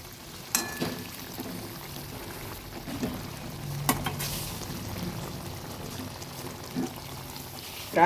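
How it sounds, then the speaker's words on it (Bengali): Chapila fish go into a simmering curry in a pan, with a soft bubbling and liquid churn under a few scrapes and knocks of stirring. "এবার আমি মাছগুলো দিয়ে দেব। নেড়ে দিচ্ছি।"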